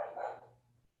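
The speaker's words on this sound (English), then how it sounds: "That's my dog. It's sort of a terrier / Wolverine cross." A terrier-cross dog gives one short, faint bark that fades quickly, heard alone.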